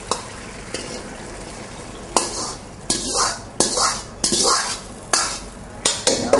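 Food sizzles and hisses in a hot wok, with repeated bursts of loud frying as ingredients are tossed, plus occasional clanks of a metal utensil.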